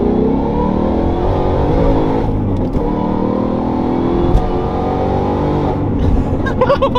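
A manual-transmission car accelerates hard on the gas, its engine roaring loud and close, climbing in pitch with brief drops between gear shifts before winding up again.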